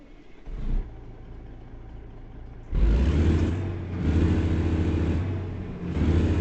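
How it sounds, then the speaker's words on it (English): A truck engine in American Truck Simulator cranks and idles low, then roars loud into a heavy rev. It surges several times in rough pulses, with no talk over it. "That's a loud engine."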